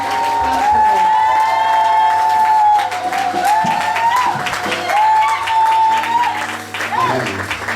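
A church congregation cheers and applauds in praise of the Lord, sustained clapping with shouts and whoops filling the room, while a voice carries on over the din.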